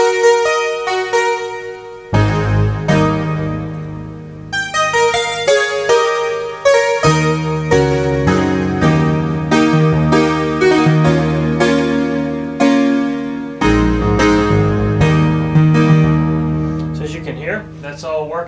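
Restored Polymoog polyphonic synthesizer playing chords and melodic lines with an audible filter sweep, loud and close, with sustained notes shifting through several sections and no talking.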